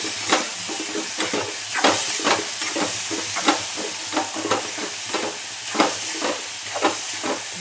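Onion tomato chutney with chili powder and garam masala being sautéed in a pan, a steady sizzling hiss broken by frequent scraping stirs of a spoon, close and alone with no talk.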